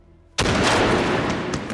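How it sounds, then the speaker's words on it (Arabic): A single sniper rifle shot in a war film set at Stalingrad cracks suddenly and loudly after a quiet moment, followed by a long, booming echo that slowly fades. "طلقة واحدة في جبهة كونيج بتنهي أسطورة ألمانيا"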